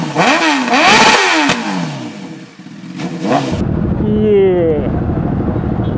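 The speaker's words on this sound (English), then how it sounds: "It's CBR 1000." A Honda CBR 1000 motorcycle engine revs up and down in rising and falling sweeps, loud and nearby, with engine noise from passing road traffic around it.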